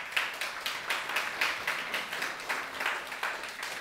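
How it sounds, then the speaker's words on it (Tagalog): A church congregation claps together during a worship service, a steady, even beat of many hands at roughly three claps per second, moderately loud and a little distant, with no talking over it. "Laksan niyo yung palakpak."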